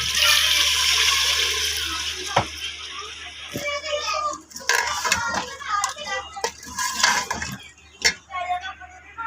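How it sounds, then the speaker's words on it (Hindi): Water is poured from a glass into a pot of fried potatoes and chicken for aloo gosht: a rushing pour up front, then splashes, clinks of utensils and a second pour. "अब मैं इसमें डाल दूँगी पानी 2 गिलास"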